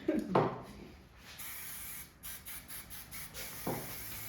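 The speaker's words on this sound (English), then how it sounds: "I like to spray under where I back comb and then just kind of put it in place" Hairspray hisses out in several short bursts onto short hair, close by, with brief pauses between sprays and a faint rustle at the start and end.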